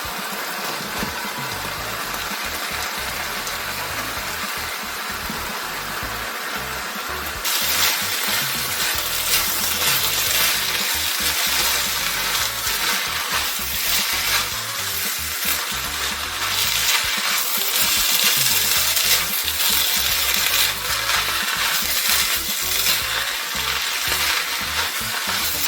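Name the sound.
rice being stir-fried for Chinese combination fried rice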